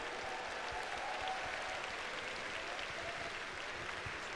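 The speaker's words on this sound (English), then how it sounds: "I need another round of applause for you guys right here, live in the Mandalay Bay for Evolution" A live crowd of fighting game fans claps and cheers at Evo 2022 in the Mandalay Bay in Las Vegas. The applause is continuous, broad and even, coming from a large hall and heard at a distance.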